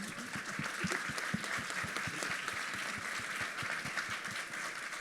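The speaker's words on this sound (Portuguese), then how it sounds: "Então, palmas para a Total Energy." Audience applause at a corporate ESG leadership event, moderate clapping from a gathered crowd with distinct individual claps audible, steady across the span and no talk.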